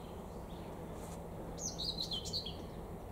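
Nightingales sing outdoors in a natural area of the Nizhny Novgorod region, with a short bright trill of chirps rising over a steady rushing background.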